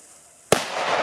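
A single sharp firecracker bang goes off after a quiet moment, followed by a lingering crackle and hiss of fizzing debris.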